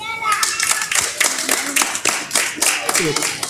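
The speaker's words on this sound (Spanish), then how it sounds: "Y esos aplausos, segundo de secundaria." An audience of secondary-school students claps at a school exhibition, producing brisk, uneven bursts of hand claps close by with children's voices talking over them.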